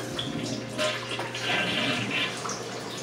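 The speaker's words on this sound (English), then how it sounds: "Toilet flush is good." A household toilet flushes during a move-in walkthrough of an apartment, a steady rushing and gurgling of water with a low hum beneath, swelling in the middle and holding on at a fairly close, moderate level.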